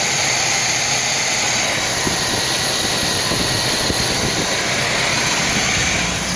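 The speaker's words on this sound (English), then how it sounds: "You can hear the whistle on the carburetor." Carburetor on the engine of a 1985 Pontiac Trans Am whistles steadily and high above a continuous idling engine drone, close and fairly loud with no talking.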